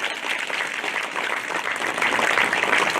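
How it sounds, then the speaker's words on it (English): Steady crowd applause for veterans at a Memorial Day ceremony, a dense, continuous clapping that holds throughout and swells slightly louder toward the end. "Please give a round of applause to all our veterans here today."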